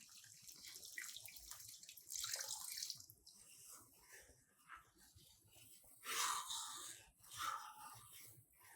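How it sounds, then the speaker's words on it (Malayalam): Second coconut milk being poured into lentil payasam (paruppu pradhaman) thickened with jaggery, a steady liquid splash with a few louder surges, close and alone. "ഇനി നമുക്കിതിലേക്ക് രണ്ടാം പാൽ ചേർക്കാം."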